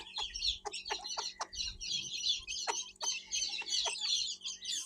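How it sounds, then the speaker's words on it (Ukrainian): Chickens and guinea fowl clucking and cheeping in a barn, a busy overlapping chorus of short calls close by, with a low steady hum underneath and no talking. "Мої мої пулі золоті, мої курчаточка золоті"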